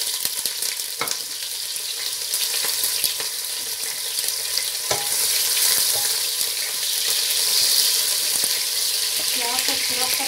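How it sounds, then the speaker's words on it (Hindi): Onions frying in hot oil for vegetable pulao, a continuous bright sizzle that grows slightly denser over time, with a few clicks and stirring scrapes close by. "प्याज को फ्राई करेंगे।"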